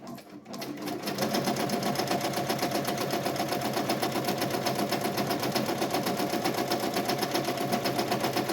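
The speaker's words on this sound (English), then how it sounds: "Now we're gonna start the regular embroidery, the satin stitch part of it, the puff part of it." An embroidery machine stitches a satin-stitch 3D puff design at about 450 stitches per minute, starting after a brief pause and then settling into a loud, fast, rhythmic needle clatter that runs continuously.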